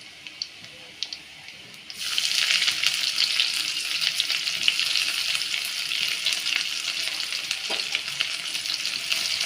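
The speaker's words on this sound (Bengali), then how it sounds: "পেঁয়াজগুলো আমি লাল লাল করে ভেজে নেব।" Chopped onions hit hot oil in a pan already holding fried garlic, while pasta is cooked the home way, bursting into a loud, steady sizzle after a quiet start that continues without pause.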